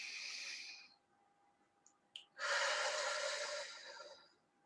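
A deep breath drawn in with an airy hiss, a brief pause with faint clicks, then a long, full exhale that fades out, close and quiet.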